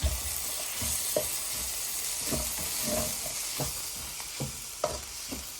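Spices for koththu roti being mixed in a hot pan, with a continuous oily sizzle and a spoon scraping the pan in occasional sharp strokes, close and fairly quiet with no talking.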